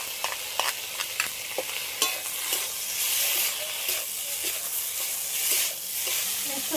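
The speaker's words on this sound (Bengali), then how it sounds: "সর্ষে বাটাটা দেওয়ার পরে একটু হালকা করে নেড়ে নিয়েছি" Mustard paste and vegetables stirred in a sizzling frying pan, a steady frying hiss broken by sharp scraping clicks of the spoon against the pan, close and fairly loud, with no talk.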